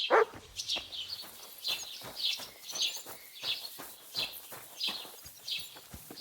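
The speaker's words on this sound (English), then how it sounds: "Aye, aye, you silly doggy. Mutt, come here!" A dog in the video game Kingdom Come: Deliverance II barks repeatedly in a steady rhythm, about a dozen moderate barks heard fairly near, with faint birdsong in the background.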